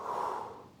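One short, soft breath pushed out during a mobility flow routine, close and unaccompanied, fading over under a second.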